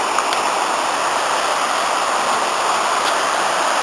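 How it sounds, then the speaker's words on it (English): The river Artro in spate rushes beneath a footbridge near Llanbedr, a steady broad hiss of fast water heard close and constant with no voices. "There's the Artro in spate"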